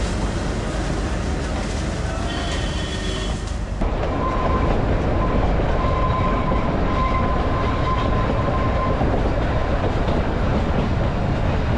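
A train on the Kalka to Shimla line in India rumbles loudly and steadily along the rails, carriages rolling with a constant heavy roar and faint squeals, heard from on board throughout.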